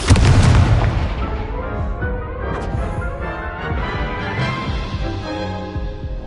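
A Confringo fire spell goes off in the Hogwarts Legacy video game, a loud booming blast at the start that rumbles and fades under game music and ambience.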